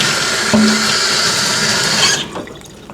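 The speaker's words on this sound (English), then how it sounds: "Excuse me for one moment while I rinse this plate off." A plate being rinsed under a running kitchen tap, with steady broadband water noise for about two seconds that then cuts off, followed by a few faint handling sounds.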